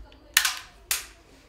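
Two sharp shots from a shooting simulator pop close by, about half a second apart, each with a brief fading tail in an otherwise quiet room.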